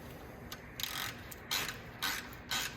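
Ratchet clicking in short bursts while snugging the differential drain plug on a Ram 2500 pickup, four quick close rattles separated by brief pauses, with no talking.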